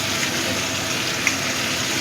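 Water running into and sloshing around a kitchen mixer jar during cooking, a steady broadband rush of flowing water, close and continuous with no talking.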